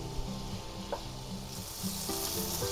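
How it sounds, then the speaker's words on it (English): Bell peppers, onions and garlic sizzle steadily in a hot pan for a hot Italian sausage sub, with a few soft stirring scrapes and knocks over the continuous hiss, close by and without talk. "Now keep sauteing these until the onions come a little translucent"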